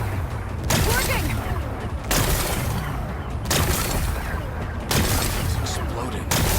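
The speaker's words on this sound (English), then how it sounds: "Gotta blast away some rocks so I can expose the power cell." Explosions blasting away rocks in Horizon Forbidden West, several loud booming bursts repeating at roughly one-and-a-half-second intervals with rumbling debris and crackle between them.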